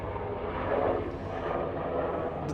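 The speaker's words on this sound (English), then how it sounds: "So those are like private helicopters that go straight to the airport" Private helicopters pass overhead in Manhattan, their engines a steady, moderately loud droning rumble that swells slightly as they fly over, with no talking.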